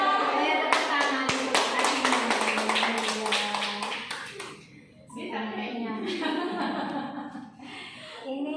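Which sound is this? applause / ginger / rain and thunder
applause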